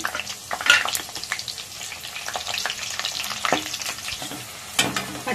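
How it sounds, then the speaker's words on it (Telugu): Split green chillies frying in hot oil for a cauliflower 65 garnish, a steady close crackling sizzle with sharp spits and stirring scrapes, louder bursts near the start and end. "పచ్చిమిర్చి ఫ్రై అయిపోయింది."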